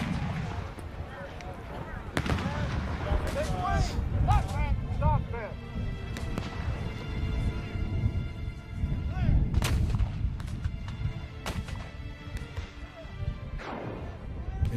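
Cannon and musket fire on a Civil War battlefield at Antietam, heavy booms and sharp cracking volleys rolling continuously and loud, with irregular big blasts punctuating a dense rumble, voices faintly mixed in.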